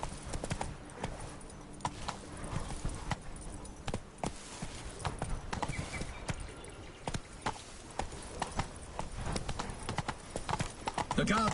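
Roach the horse clip-clops steadily on hard ground in The Witcher 3: Blood and Wine, the quick hoofbeats continuing without a break. A voice speaks over the hooves, and no clear whinny stands out.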